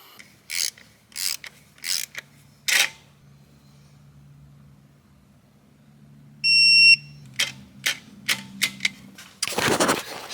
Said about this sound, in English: Let's just measure this thing, see what happens, and we'll stop. We'll stop whenever it feels good and tight